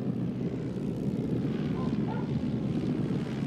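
Propeller airplanes approach from a distance on a Sunday morning shortly before 8 o'clock, a steady low engine drone that holds evenly throughout with no talk over it.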